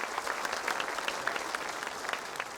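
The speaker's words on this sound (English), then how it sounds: "Everybody give a huge round of applause for those guys." Audience applause at a national championship basketball tournament draw event, a steady dense wash of many hands clapping at moderate volume across the whole stretch with no pause.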